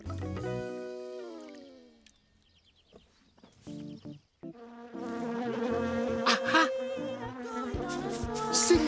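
Cartoon bees buzz in an animated Tinga Tinga Tales episode, with a loud, wavering drone that breaks off briefly, returns in short bursts, then builds into a dense, busy swarm alongside musical tones.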